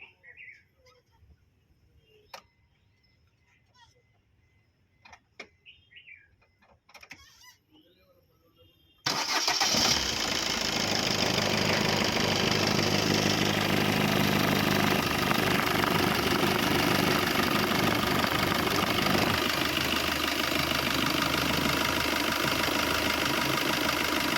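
A 2019 Maruti Swift VDI diesel engine starts abruptly after quiet birdsong and then idles steadily with a constant low rumble.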